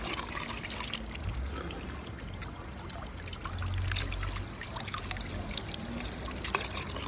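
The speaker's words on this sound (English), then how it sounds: "Straight up, this is aqueduct water coming out of this thing," Aqueduct water runs from a city tap in a steady, close trickle and pour, soft and continuous with a slight swell midway, with the faint hum of an outdoor street behind it.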